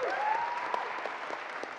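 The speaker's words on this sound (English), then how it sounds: "I just want a round of applause for the investors" Applause from an audience at an entrepreneurs' demo day, a steady dense patter of many hands, with a faint voice briefly audible at the start.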